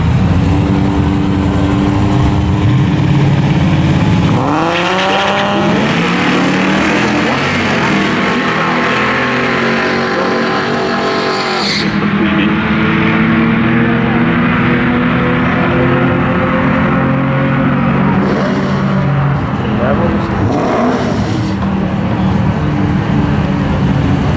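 A Chevrolet Trailblazer SS drag racing at Raceway Park in Englishtown, New Jersey, its engine roaring loud and steady with a surge of revving partway through, heard alone without talk.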